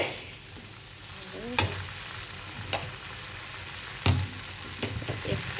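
Drumstick vegetable (sajne data) pieces fry in a pan with a constant low sizzle, broken by several sharp scraping stirs of a spatula, close and fairly quiet with no talking.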